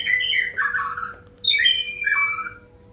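A white-rumped shama sings loud, clear descending whistled phrases, two bursts separated by a short pause, close by with no other sounds.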